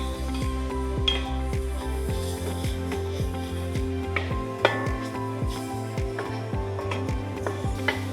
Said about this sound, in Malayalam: പിന്നെ കറിവേപ്പില കുറച്ച് ഇട്ടിട്ട് ഇതെല്ലാം കൂടി വീണ്ടും ഒന്ന് ഇളക്കാം.